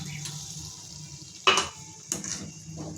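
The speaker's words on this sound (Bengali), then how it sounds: "আমি এবার দিয়ে দিচ্ছি কিছু চিনি আর দিয়ে দিচ্ছি 1 কাপ মতো জল" Sugar and a cup of water go into a pan of banana flower curry cooked in oil, with low sizzling, a sharp clink of utensil on pan and a splashing hiss as the water hits, close and brief.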